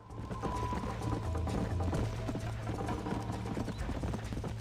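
A horse gallops in the video game Red Dead Redemption, its hooves beating a quick, steady clip-clop rhythm over a low rumble, close and continuous.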